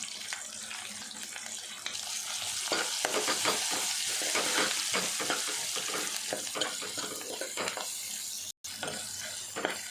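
Onions, cumin, curry leaves and ginger-garlic paste sizzle in hot oil with continuous frying crackle and repeated stirring scrapes in a pan, steady and close, briefly cut off near the end.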